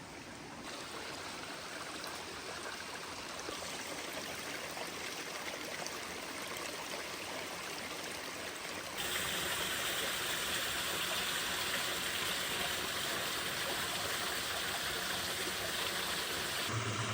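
A stream flows steadily near a hydroelectric turbine, giving a constant broadband rush of water with no pauses. The sound jumps noticeably louder and brighter about halfway through, as if moving closer to the water.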